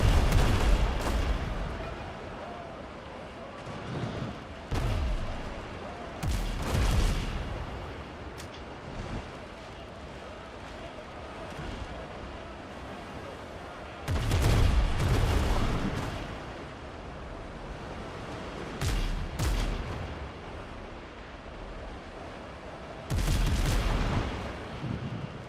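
Heavy gunfire and explosive blasts from a base-building video game, coming in loud, booming bursts at intervals over a constant rumbling background.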